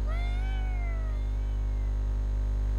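A single cat meows once in a drawn-out, falling cry in the video game Maevhyl Chasses des Esprit à Tokyo, heard close and clear over a steady low electrical hum.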